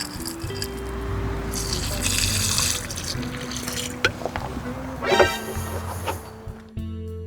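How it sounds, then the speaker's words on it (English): Water is poured into a planting hole in a garden bed, a steady splashing stream that gurgles and drains away, with sustained tones of background music. "When I poured water into the hole, it drained very quickly because of a vole tunnel."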